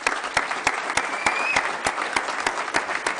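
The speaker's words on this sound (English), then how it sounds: "Let's give them a round of applause." Audience applause at a swearing-in of school committee members during a midterm address, a steady dense clapping from a crowd that fills the whole stretch at moderate loudness.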